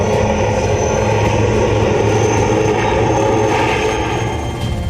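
A Made in India light combat helicopter in flight gives a loud, steady roar of rotor and engine noise that holds close and unbroken throughout, with no voices.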